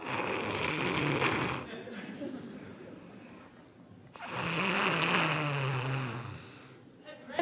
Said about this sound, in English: Grandmother sure does have a mighty snore.